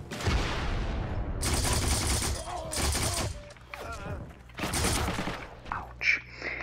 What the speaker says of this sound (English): I'm firing more bullets.